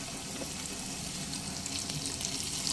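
Ginger-garlic paste with ground dried chilli and cumin fries in a pan over medium heat for a chicken curry, a continuous close sizzle with faint stirring scrapes.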